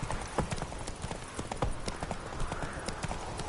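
Horse hooves clip-clopping in a PS4 video game, a rapid, steady rhythm of trotting hoofbeats with faint ambience and no clear speech.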